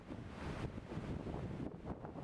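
Steady broadband rushing of the Vördingsås waterfall heard from the gorge below, a continuous faint roar with wind buffeting the microphone and no voices.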